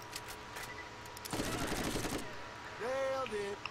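Machine gun fire in Borderlands, a rapid, loud burst of automatic shots lasting under a second amid game ambience, followed by someone speaking.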